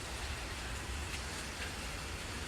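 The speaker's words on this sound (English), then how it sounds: "It's raining." Rain falls outside as a faint, soft, continuous wash of noise with a low rumble underneath and no voices.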